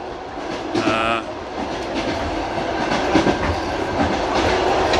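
Passenger train on the line to Turkestan, heard from inside as a loud, continuous rumble with rhythmic clickety-clack of wheels over rail joints and occasional rattling of the carriage.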